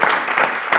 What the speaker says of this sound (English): Round of applause for living legend.